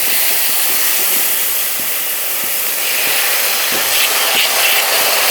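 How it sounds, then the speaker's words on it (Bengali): About half a cup of water hitting frying masala in oil for prawn malai curry, a loud continuous steamy hiss with faint scraping ticks underneath. "আমি 1/2 কাপ মতন জল দিলাম"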